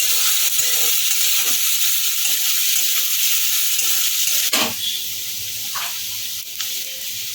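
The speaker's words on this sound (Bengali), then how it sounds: "এবার ক্যাপসিকামটা একটু নরম হওয়া পর্যন্ত একটু নাড়াচাড়া করে নেব" Capsicum sautéed in a pan for paneer fried rice, a loud, continuous frying hiss with soft stirring scrapes, easing slightly quieter partway through after a clank.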